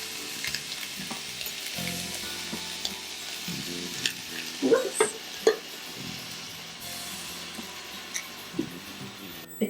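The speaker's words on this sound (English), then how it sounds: "Next up, we get to start adding in our chickpeas, our coconut milk" Chickpeas and coconut milk are added to a vegan curry simmering in a pan, with a soft sizzle, a few clinks and stirring knocks up close, and no voices.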